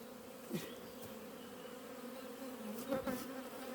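Honeybees buzz around a feeder filled with a honey and water mix, a soft steady hum with a couple of closer passes that swell briefly.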